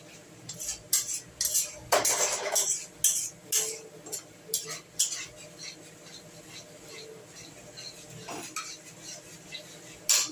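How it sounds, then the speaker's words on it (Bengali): A spoon stirs whisked sour yogurt into a cauliflower and potato curry in a pan, giving repeated close metallic clinks and scrapes in an uneven rhythm, with a brief louder burst of rattling. "টক দইটা ভালো করে মিশিয়ে নেবেন"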